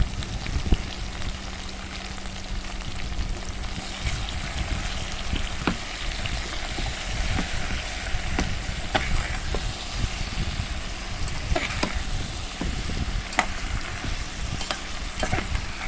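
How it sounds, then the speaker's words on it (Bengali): Okra and potatoes frying together in a pan with chili powder, turmeric and ginger-garlic paste, a steady close sizzle with occasional stirring scrapes and clicks throughout. "একসাথেই ভেন্ডি আর আলু দিয়ে দিলাম একটু হালকা ভেজে নিলাম"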